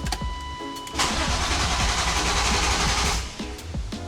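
A BMW E36 M3 with an S52 engine, just back from a head rebuild after a blown engine, cranks briefly. It then catches and runs loudly for about two seconds before settling back down, close up.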